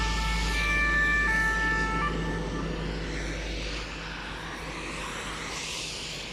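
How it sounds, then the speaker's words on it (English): An ambulance siren wails at a distance on a flat, open evening road, its steady tones fading as the vehicle moves past, over a low rumbling background hum. "I was just not sure if the ambulance is coming towards me or not"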